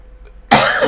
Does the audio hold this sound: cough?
yes